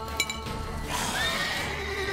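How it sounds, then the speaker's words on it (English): A horse whinnies in The Witcher 3, a faint neigh rising and falling near the middle of the short clip over low game ambience. "Hey! Don't bother my horse!"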